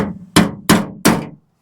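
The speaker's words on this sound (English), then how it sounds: "I can get in here with a small punch and try and pop that rest of that steel core up through that rivet" Three sharp hammer strikes on a punch set on the steel core of a rivet in a Playcraft tritoon pontoon's underskin, evenly spaced, loud and close, each ringing briefly before the next.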